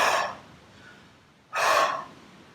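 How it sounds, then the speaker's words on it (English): A person demonstrates forced, pushed exhales during a breathing session: two loud, close, breathy rushes of air about 1.5 seconds apart, with a faint softer breath between them and no talking. "I see people going into breathing where they kind of pushing an out breath"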